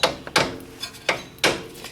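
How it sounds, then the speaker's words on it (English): A hammer gently taps a suspension fork pass-through bolt back through the lower control arm of an EK-series Honda Civic: about four sharp, separate knocks spaced unevenly, with softer light taps between them. "using a hammer to gently tap it back through"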